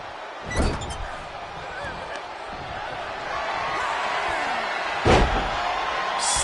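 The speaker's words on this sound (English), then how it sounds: "Slamming their opponent into place." A wrestler slams an opponent to the mat in the WWE 2K25 video game, NXT Universe Mode: a heavy thud lands early, a second sharp impact comes later, and both stand out over steady crowd noise and game commentary.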